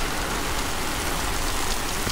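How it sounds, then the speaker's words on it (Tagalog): Heavy rain pours at a hilltop stop on Guimaras Island, a dense, steady hiss of falling water with no break and no voices over it. "ang lakas ng ulan dito sa akin"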